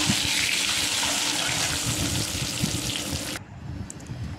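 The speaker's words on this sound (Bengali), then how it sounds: "এবার আমি ডিমটা ভেজে নেব" An egg fries lightly in hot oil, giving a steady broadband sizzle that runs close and even for a few seconds before cutting off abruptly, leaving a quiet background.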